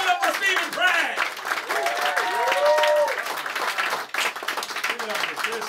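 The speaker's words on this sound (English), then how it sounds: "Keep clapping, keep clapping, keep clapping." Audience applause at a comedy show, steady clapping with whoops and overlapping voices as people speak over it.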